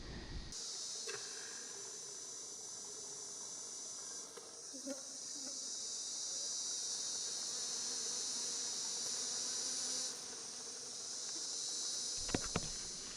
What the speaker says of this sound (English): Here comes the bees again.